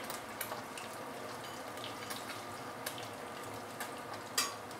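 Silago whiting fish deep frying in hot oil, a faint steady sizzle and crackle with a few sharper pops, heard alone without talk.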